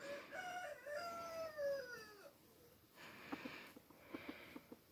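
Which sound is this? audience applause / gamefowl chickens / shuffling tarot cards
gamefowl chickens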